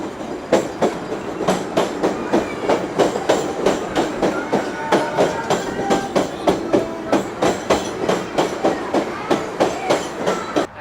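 An elevated CTA Holiday Train rolls onto the tracks, its wheels beating out a steady, loud clickety-clack rhythm of repeated rail-joint impacts, with faint squeals over a continuous rumble.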